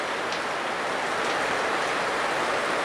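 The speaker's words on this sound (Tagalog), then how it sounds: "sobrang lakas ng ulan, magdamag umulan" Heavy overnight rain pours down in a steady, dense roar close by, with runoff water dripping and splashing from floodwater outside a house, continuous and loud with no talk.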